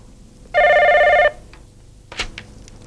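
A telephone rings once in a steady electronic burst lasting under a second, followed by a soft click and faint handling noise.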